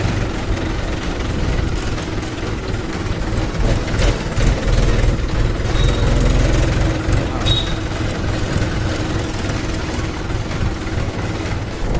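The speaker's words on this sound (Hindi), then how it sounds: "तो ट्रैक्टर चल रहा अपना" A tractor engine running steadily in a field at harvest time, a loud continuous low rumble and mechanical chatter throughout, with people talking over it.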